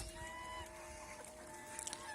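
Old domestic geese honk from a flock in open surroundings, faint calls over a steady background hum, with a few sharper honks near the end.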